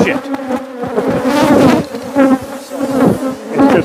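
Killer bees buzz loudly and continuously during a hive removal, a dense close swarm drone that swells and fades as insects pass near.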